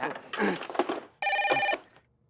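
An old-style telephone bell rings in two loud bursts separated by a short pause, nearby in an electrical shop, with no talking.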